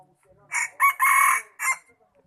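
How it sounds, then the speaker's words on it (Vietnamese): A small mini rooster crows close and clear, a broken cock-a-doodle-doo in several bursts with a long held middle note, preceded by a few soft low clucks. "Gà này nhỏ lắm các bạn ạ."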